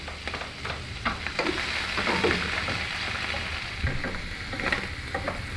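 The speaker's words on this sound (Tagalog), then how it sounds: "Lutuin lang natin konti ang ating mushroom" Mushrooms fry in a pan with a steady, moderate sizzle and occasional crackles and stirring sounds, with no talking.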